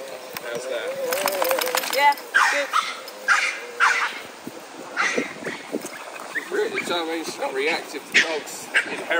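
A dog barks and yips in short bursts outdoors, near and fairly loud, interleaved with people talking and some whimpering.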